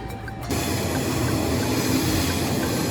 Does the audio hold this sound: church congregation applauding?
no